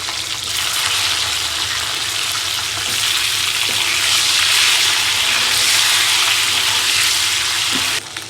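Duck eggs sizzle in hot oil in a pan, a loud, steady crackling hiss that runs unbroken for several seconds.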